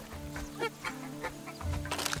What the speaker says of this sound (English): Kill the chicken.